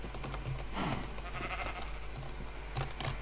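Minecraft sheep bleat in a wavering cry near the middle, with a second shorter bleat toward the end, over steady game background noise and clicking.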